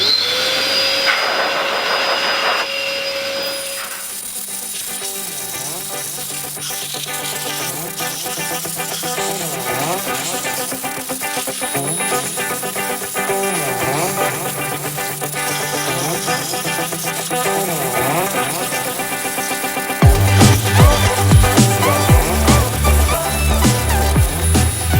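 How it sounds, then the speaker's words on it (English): A high-pressure heated air blower for drying a motorcycle starts up and runs with a loud, steady whining roar and shifting tonal hum, then surges louder near the end, close and continuous. "it will warm up the air just like a hairdryer and blast the warm air out"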